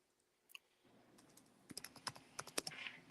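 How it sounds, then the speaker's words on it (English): Fingers tap on a computer keyboard in a quiet room, a quick irregular run of soft clicks that starts faint and becomes louder and denser over a few seconds. "I was typing."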